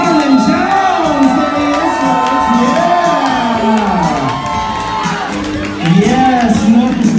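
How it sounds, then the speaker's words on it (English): A lively crowd at Trinity Nightclub cheers, whoops and shouts to welcome nightclub owner Norman Jones to the stage, a loud sustained roar with voices rising and falling throughout and surging again near the end. "Everybody make some big noise and big rounds of applause as we welcome to the stage Mr. Norman Jones."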